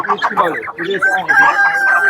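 Chickens cluck loudly and close by, with a rooster crowing over the flock, amid the busy chatter of the crowded Kombinat bird market in Margilan.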